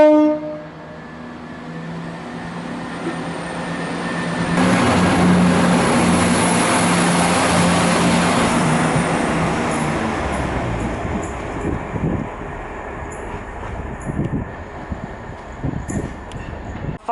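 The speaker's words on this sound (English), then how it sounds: "Final train has left Harrogate" A train departs Harrogate station, with a low rumbling engine swelling into a loud broad roar, then easing into a steady rolling rattle with clicking wheels. No voices.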